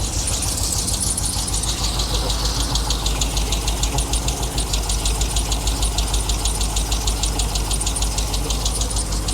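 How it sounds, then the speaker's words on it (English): A rebuilt Trailblazer SS engine idles steadily and loudly up close, with a fast, even ticking of lifter noise running through the whole stretch, and no talking. "Lifter noise."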